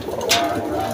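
Large pigeons of a show or fancy breed cooing close by in a loft, a soft low coo under steady background noise and a brief rustle.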